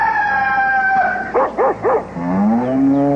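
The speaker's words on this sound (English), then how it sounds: "goat started to make strange noises" A cartoon goat makes strange noises: three short, wavering bleat-like calls in quick succession, set between longer sliding howling tones, loud and close with no talk.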